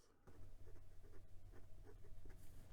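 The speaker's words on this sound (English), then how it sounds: "This is a nicely wet pen, and I really didn't do anything to this other than write with it." A wet, ultra-smooth fountain pen nib glides across paper with diamine oxblood ink, making a soft, faint, continuous scratching with small rhythmic strokes, very close and quiet.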